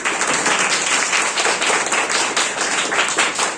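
Congregation at an Easter church service applauds together, a dense burst of many hands clapping at close range, steady and lively for nearly four seconds without speech.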